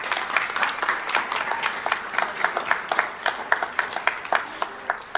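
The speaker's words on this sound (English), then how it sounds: "we're going to give him a round of applause" Audience applause at a school board meeting in a boardroom, a modest scattering of individual claps with distinct hand strikes standing out, steady and moderately loud throughout.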